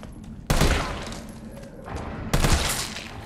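Gunfire in Resident Evil 3 Remake, a hospital fight as Carlos: two loud bursts of rapid shots, the first at about half a second and the next near two and a half seconds, with a softer rumbling stretch between them.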